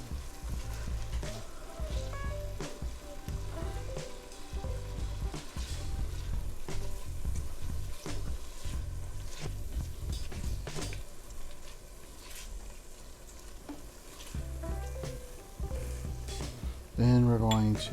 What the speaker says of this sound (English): So I'm just going to toss in my onions here.